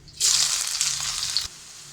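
Chopped onions hit hot oil in a pan already holding fried shahi cumin, giving a loud, bright sizzle that bursts in suddenly, holds steady for over a second, then drops back to a faint hiss.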